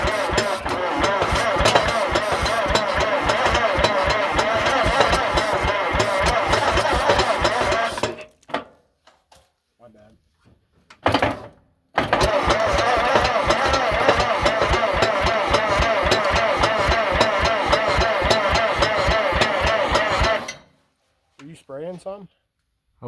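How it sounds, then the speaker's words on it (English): A tractor engine cranks on the starter and runs with a steady mechanical chug for several seconds, cuts out briefly, then settles into a loud, even idle before stopping; a few faint clanks follow. "Power's going on to the starter."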